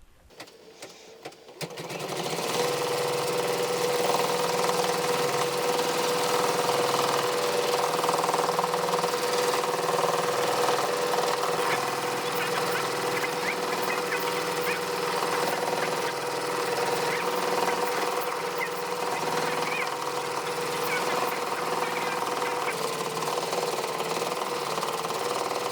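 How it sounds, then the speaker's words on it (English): Brother embroidery sewing machine stitching a design on fabric starts after a brief quiet moment, then runs as a loud, steady, rapid mechanical hum and clatter for over twenty seconds, close and without talking. "let me get stitching this and I'll be right back"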